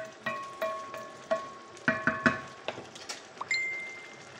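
Paella cooking in a pan at home, a soft steady sizzle and simmer beneath scattered light clinks and taps of utensils against the pan, close and fairly quiet with no talking.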